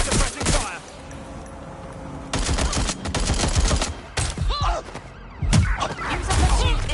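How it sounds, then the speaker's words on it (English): Rapid bursts of gunfire from a Watch Dogs video game firefight, loud and close with repeated volleys and sharp cracks, mixed with in-game voices and impacts. "Right, suppressing fire."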